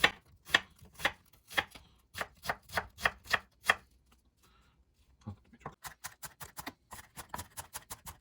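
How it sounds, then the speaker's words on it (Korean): A knife finely minces onion on a cutting board for coleslaw: crisp, close, rhythmic chops in a steady run, then a pause and a faster, quieter flurry of chopping. "양파를 다져주겠습니다."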